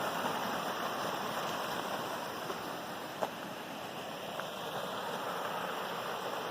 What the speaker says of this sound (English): Nice little cascading creek that runs into Jake's Creek.